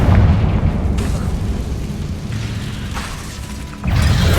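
A Confringo spell explodes in the Hogwarts Legacy video game, a loud, dense booming blast that sustains across the whole stretch, dips briefly and then surges again near the end, with no talk over it.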